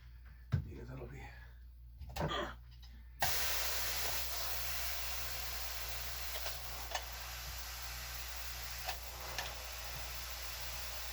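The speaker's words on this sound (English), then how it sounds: "as long as you can hear the hiss and see the steam, wool's in no harm, no danger" A steam iron hisses onto wool fabric for a kilt, starting after a few soft fabric handling noises and then holding a broad, steady hiss with faint ticks and clicks on top, fairly close and moderately loud.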